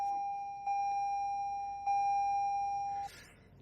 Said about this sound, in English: And 5 beeps telling me, look in the mirrors, get the seatbelt on, check the camera when backing out.